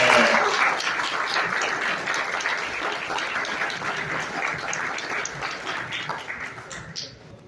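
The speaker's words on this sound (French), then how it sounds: "Je vais vous fatiguer avec des applaudissements" A graduation ceremony audience for new teachers breaks into sustained applause, dense and even throughout, tapering off toward the end with no speech over it.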